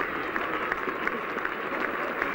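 A large crowd at Edgbaston applauds a century by Alan Knott in the England v Pakistan first Test, with steady, dense clapping that holds at an even level throughout.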